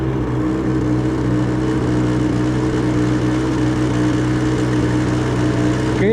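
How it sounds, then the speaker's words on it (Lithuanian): A quad bike (ATV) runs steadily ahead on the road, its engine a continuous mid-pitched drone with a slight rising rev, fairly close and loud throughout, with no talk over it. "Keturatis priekį."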